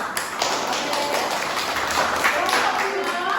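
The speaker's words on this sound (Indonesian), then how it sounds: "Oke, tepuk tangan." A class applauds steadily, a dense patter of hand claps that holds at an even, fairly loud level from start to finish.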